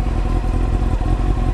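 A Honda CBR929 motorcycle engine drones steadily at close range while riding, a continuous rough rumble with no voices.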